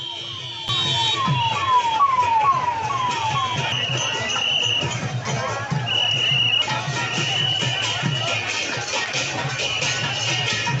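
A wailing emergency siren, sent to carry people by ambulance during the 2025 Puri Jagannath Rath Yatra festival, sweeps up and down repeatedly and loudly over a dense crowd roar and background voices.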